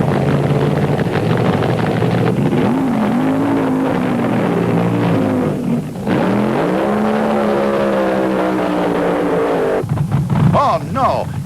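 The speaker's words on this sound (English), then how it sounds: "Charlie Lee's Vega developed trouble on the burnout." Drag racing cars at a 1975 IHRA Pro Am Nationals start line, a Hartzell Brothers Vega and a Mr. Norm's Dodge Supercharger, roar steadily through a burnout, with engine pitch rising and falling, as an announcer talks over the noise.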